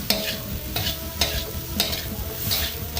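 Fried rice with seasoning, soy sauce, oil and fried shallots stirred in a frying pan, with a steady sizzle and repeated scraping strokes of the spatula roughly every half second, close and alone.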